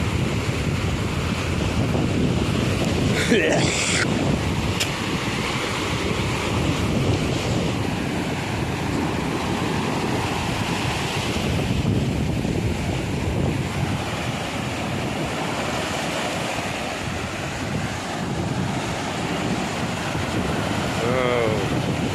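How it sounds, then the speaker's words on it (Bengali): Sea waves roll and break continuously, with heavy wind buffeting the microphone throughout. "ঢেউ আসছে"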